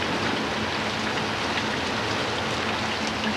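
Steady, dense rain pours down continuously, a constant hiss of drops hitting surfaces with no pauses and no voices.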